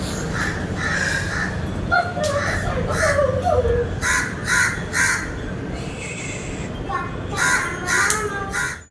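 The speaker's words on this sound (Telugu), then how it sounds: "కాక అరుస్తూనే ఉంది" Repeated harsh crow caws in irregular bursts, fairly close, over a steady outdoor background with faint murmuring.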